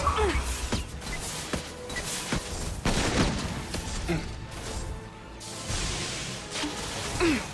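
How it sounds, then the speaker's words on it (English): A missile launcher firing repeatedly at a mech in Mass Effect 2, a series of whooshing launches and thudding blasts spaced through the fight, with voices talking over the combat. "Let's go ahead and use our missile launcher, see how it works."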